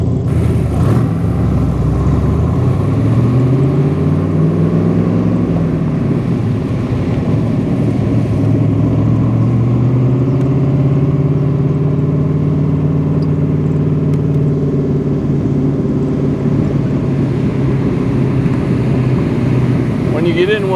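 A 2025 Factory Five Cobra Mark IV with a fuel-injected 347 V8, driving on the road: a steady, loud engine drone with shifting pitch as it pulls and changes gear, with wind rush throughout.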